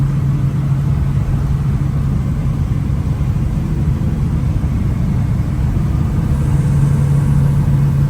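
A 1969 Chevrolet K10 pickup with a 383 engine drives along with a steady, loud, low engine drone and road rumble, and no voices.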